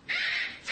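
A cockatoo gives a single harsh, loud screech followed by a shorter second cry, close and alone without talk.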